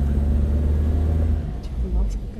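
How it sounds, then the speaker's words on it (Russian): A car crawls over tree roots on a forest track near Lake Kirek outside Tomsk, with a deep, close engine rumble and rhythmic bumping under voices talking. "Да, по корешкам едем."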